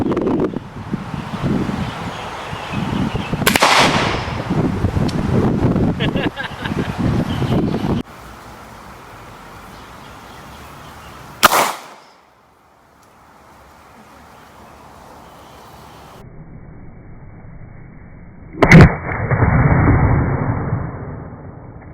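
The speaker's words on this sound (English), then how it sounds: "that's the satisfying explosion I was hoping for. It's a very audible pop." Two sharp, loud bangs of a pressurized bottle exploding at 70 PSI burst out about seven seconds apart amid outdoor wind and rustling, with voices talking earlier.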